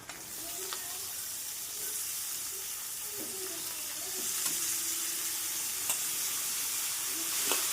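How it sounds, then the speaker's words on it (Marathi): Chopped cabbage added to a pan with a little coriander for a dry vegetable dish, a steady soft hiss of frying with a few faint clinks and stirring sounds, growing slightly louder partway through. "आपण पत्ताकोबी चिरून घेतलेली आहे ते टाकणार आहे"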